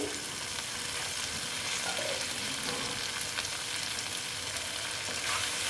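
Mourola fish jhal chorchori cooking covered in a pan on lowered heat, a dense, steady close sizzle and bubbling hiss that runs unbroken throughout with no voices.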